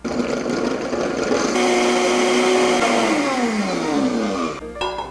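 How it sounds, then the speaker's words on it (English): Countertop blender grinding half a cup of dried coconut flakes, a loud steady motor whir that rises in pitch as the blades spin up, then cuts off abruptly near the end. "And then we're gonna blend it till it's pretty fine."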